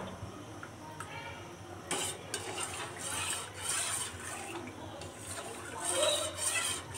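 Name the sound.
spoon stirring a custard-like sweet dessert in a pot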